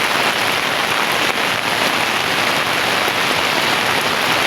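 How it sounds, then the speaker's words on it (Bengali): Heavy rain pours down steadily, a dense, loud hiss of drops drumming on surfaces with no break throughout. "খুব জোরে বৃষ্টি হচ্ছে দেখেন,"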